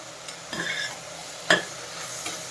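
Softened sautéed onions are stirred with coriander powder and garam masala in a pan, with a few scraping utensil strokes, one sharper knock, over a low, quiet sizzle.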